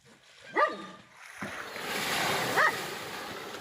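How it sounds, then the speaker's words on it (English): A dog on a dive boat at sea barks a few times, short separate yelps spaced apart, over a steady wash of waves and wind. "Their dog, Sam, was equally astounded."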